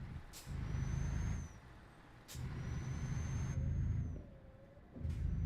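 A truck in Euro Truck Simulator 2 auto-brakes on a highway, giving sharp air-brake hisses that recur several times over a steady engine drone, heard alone and fairly near.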